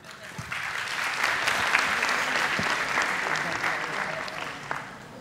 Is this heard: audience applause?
yes